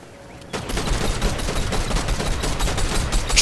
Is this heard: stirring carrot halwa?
no